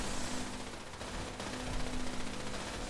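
Continuous gunfire as robots are shot in the Fallout 76 video game, a dense unbroken rattle of rapid shots lasting the whole stretch at moderate loudness, with no talking.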